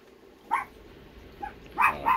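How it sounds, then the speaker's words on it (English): An excited dog lets out several sharp yips and barks, one near the start and a quick pair near the end, over a faint room background. "Gold dog's all worked up."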